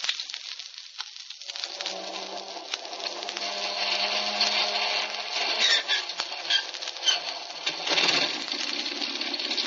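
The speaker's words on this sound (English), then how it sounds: "Here we go with engine number 1." An aircraft engine starting whirs and builds into a steady, buzzing drone that grows louder and rougher as it runs, with no voices.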